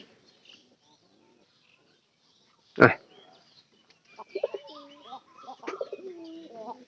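A newly paired pigeon and its mate, placed together in a loft, give soft low coos and murmurs near the end, faint and close, after a single sharp knock and a long quiet stretch.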